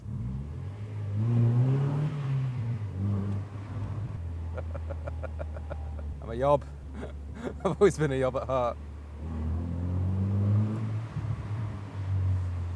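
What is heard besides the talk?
Mazda MX-5 NB revving with modified exhaust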